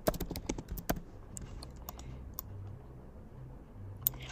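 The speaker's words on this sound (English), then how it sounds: "So just hit T on your keyboard and type sales growth." Rapid, close clicking of a computer keyboard as text is typed in the Figma design app, a burst of keystrokes up front followed by a few scattered taps and a final click.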